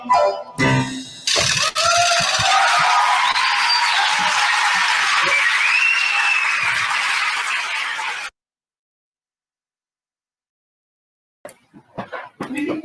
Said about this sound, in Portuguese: Dulce, Marta, esses aplausos foram todos para você.